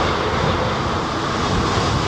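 An airliner with thrust reversers deployed roars steadily as it lands at Heathrow during a storm, a broad, loud rushing blast mixed with wind, heard distant yet dense throughout.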